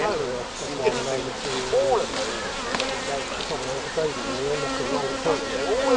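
A dense, close buzzing of many honeybees at a hive hums steadily throughout as bees are shaken off a frame, with people talking quietly underneath.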